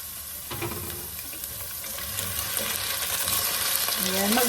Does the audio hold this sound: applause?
no